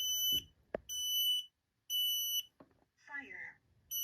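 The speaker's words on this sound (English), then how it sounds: "let's see if it decides to go off, right? Error beeps?" A smoke detector gives loud, shrill error beeps, three long electronic tones separated by short gaps, with brief voices and clatter between them.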